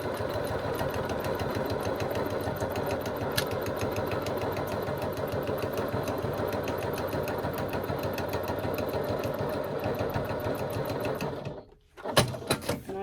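A sewing machine stitches steadily around the edge of a piece of fabric, a rapid even mechanical patter that stays close for about eleven seconds, then stops abruptly, followed by a few soft handling clicks.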